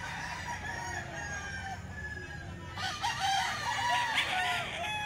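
A Golden Boy Sweater bloodline gamefowl rooster crows at a market, the drawn-out call fairly close and clear over a low murmur of crowd noise, with other fowl faintly clucking around it.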